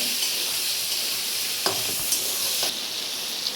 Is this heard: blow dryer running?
no